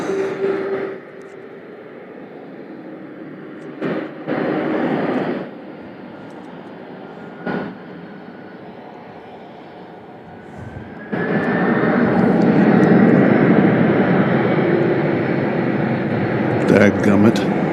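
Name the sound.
UPS cargo plane taking off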